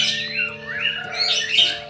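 A white-rumped shama (murai batu) sings close and loud, running through quick chirps, squawks and sweeping whistled phrases that mimic the songs of small birds, with no talk.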